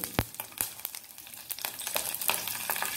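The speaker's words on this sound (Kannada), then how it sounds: "ಸಾಸಿವೆ ಚಟ್ಪಟ ಹೇಳ್ತಾ ಇದೆ." Mustard seeds crackle in hot oil as masala dosa filling is prepared, with sharp scattered pops over a soft sizzle, close and fairly quiet.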